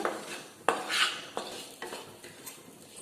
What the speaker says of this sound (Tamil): இந்த மசாலா வாசனை போகிற வரலும் கொஞ்ச நேரம் ஒரு 5 நிமிஷம் வதக்கிக்கோங்க